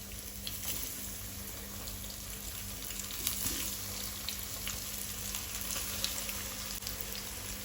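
Slices of colocasia (madi) frying in hot oil over a medium gas flame for a Goan kapa fry, a steady, close sizzle and crackle that holds evenly throughout with no talking.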